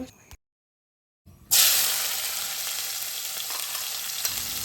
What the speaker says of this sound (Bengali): পেঁয়াজ কুচনোগুলো আমি এখন দিয়ে দিব ভালো করে ভেজে নেব পেঁয়াজগুলোকে